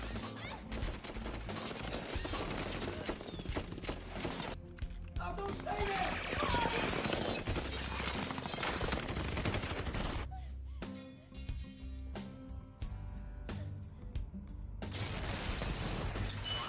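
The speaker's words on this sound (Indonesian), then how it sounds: "orang-orang itu tersebut pun menembaki rumah Frank sampai rumah itu hancur" Rapid bursts of gunfire and crashing destruction from a film scene as attackers shoot up a house, loud and dense with brief quieter gaps between volleys.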